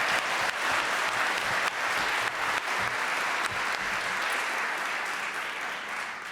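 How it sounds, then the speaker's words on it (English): An audience applauds a contestant leaving the stage at a national civics bee championship, steady mid-level clapping from a room full of people that holds evenly and eases off slightly toward the end. "A round of applause for Tashvi."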